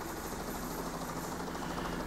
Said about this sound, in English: It's the fact that the helicopter coming in will alert every guard